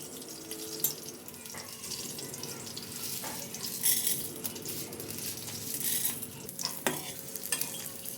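Chana dal and chili frying in a pan while being stirred, soft sizzling under intermittent scraping and clinking stirs, fairly quiet and close, with no talking.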